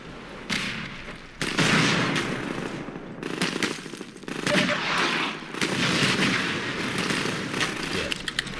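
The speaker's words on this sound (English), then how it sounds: "Who the fuck is shooting me?" Gunfire in the Half-Life 2: Lost Coast video game, loud rattling bursts of rapid shots that start and stop in several rounds, separated by brief pauses.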